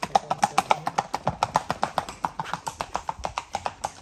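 Steady clip-clop of horse hooves on a hard surface, a quick regular rhythm of sharp knocks, fairly close and continuous throughout.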